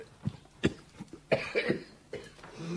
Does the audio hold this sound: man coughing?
yes